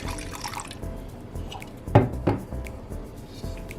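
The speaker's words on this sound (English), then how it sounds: "we're just gonna pour some of the wine over the cake" Wine splashes and drips in a couple of soft bursts, poured over a hot Jamaican fruit cake close by, with faint kitchen clatter around it.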